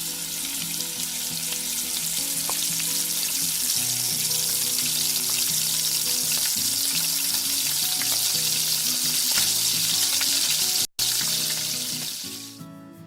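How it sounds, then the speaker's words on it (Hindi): Onions frying in hot oil in a wok (kadhai), giving a loud, steady sizzle with a bright crackling hiss, constant and close throughout, with faint stirring clinks and no speech. "तेल गरम होते ही प्याज डाल दीजिए।"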